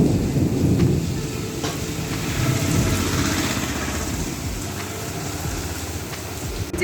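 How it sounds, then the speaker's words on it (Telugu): Heavy rain pours steadily in a city street during a Ganesh immersion procession, with deep rumbling thunder and a low engine hum beneath the constant downpour. "నాకు వర్షంని ఎలా క్యాప్చర్ చేయాలో అర్థం కావట్లేదు"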